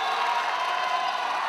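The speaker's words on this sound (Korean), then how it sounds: "상명대학교 학우들 환호하면서 박정훈에게 박수를 보내주고 있습니다." Sangmyung University students at a college basketball game cheer and applaud a blocked shot, a steady wash of crowd noise and clapping that holds at an even level.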